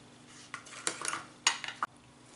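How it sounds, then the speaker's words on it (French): A knife cuts pears for a Dulcey pear entremet, a few light taps and scraping clicks against a board or plate, short and fairly quiet over a faint steady hum. "Donc on va découper nos poires."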